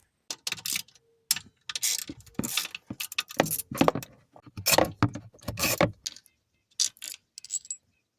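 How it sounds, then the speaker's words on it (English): An 8mm bolt is loosened and removed from the carburetor assembly of a 200cc Chinese ATV, a TaoTao or Coleman AT200, giving repeated close metallic ratcheting and clicking in short irregular bursts with brief pauses between. "I'm just going to pull this 8mm bolt and replace this whole assembly that comes with the new carburetor."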